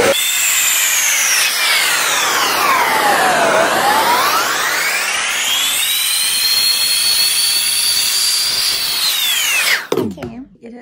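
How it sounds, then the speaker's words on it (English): A hair dryer blows loudly and steadily, its whining motor pitch sliding down and back up as airflow shifts, then cutting off abruptly near the end. "I just hold my hair and, like, I stretch it, and then I take my hair dryer."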